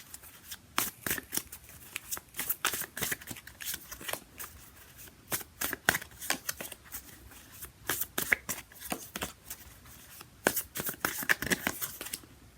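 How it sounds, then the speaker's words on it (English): Repeated riffling bursts of tarot cards being shuffled by hand, close and crisp, in uneven rapid clusters with brief pauses between. "when I do my shuffling like this"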